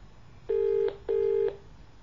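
A phone rings out twice in steady, even electronic tones, each lasting about half a second with a brief gap between them, heard alone before the call is picked up.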